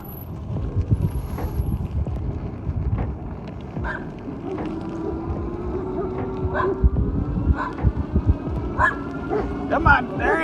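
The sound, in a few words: border collie barking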